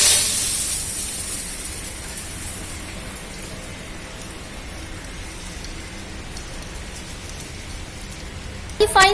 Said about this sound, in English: we are going to put whatever the remaining material that is sieved through this coarse sieve. Now we are putting into this fine sieve analysis